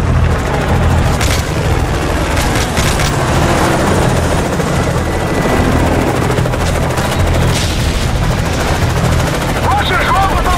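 Helicopters and gunfire in Call of Duty: Modern Warfare 3 fill the scene with continuous rotor roar, rattling machine-gun bursts and booms, loud and dense, with voices talking over the combat.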